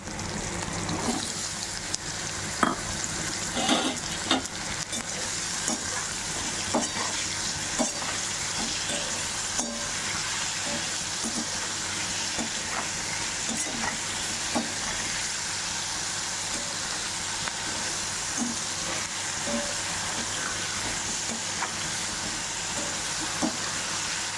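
Ingredients sauté in a hot pan, giving a continuous loud sizzle broken by repeated stirring scrapes and taps, before bananas are added for a curry; no one speaks.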